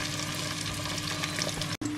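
Scrambled eggs frying in a pan give a continuous close sizzle with light stirring, broken by a brief cut near the end.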